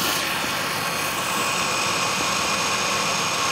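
A jet pump water pump motor runs on a well with the water level over 10 meters down, its stop valve set so the engine sounds steady. The hum is loud, continuous and unbroken, with no talking.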